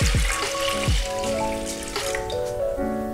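Water being poured into a saucepan of soybeans, about 600 ml, makes a steady, close splashing and gurgling pour that runs throughout.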